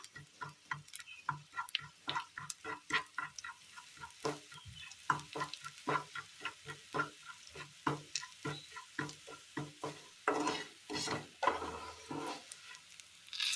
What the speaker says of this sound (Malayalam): മുളക് പൊടി മഞ്ഞൾപ്പൊടി പൊടികളെല്ലാം നന്നായി ഒന്ന് മൂപ്പിച്ചെടുക്കാം